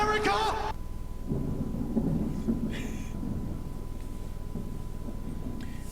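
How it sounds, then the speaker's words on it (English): A thunderstorm rumbles outside, a low, rolling, sustained thunder with steady background noise heard from indoors, a brief higher sound at the start, no talking. "it's storming outside by the time I'm recording this, so if you hear lightning strikes, that's what it is"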